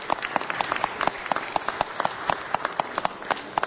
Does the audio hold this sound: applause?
yes